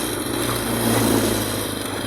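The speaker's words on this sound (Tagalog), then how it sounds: "Pakikinggan nyo yung tunog ng makina kapag medyo hirap na hirap siyang umahon." A motorcycle engine labouring uphill in second gear around Timberland, a steady strained drone that holds close and loud throughout.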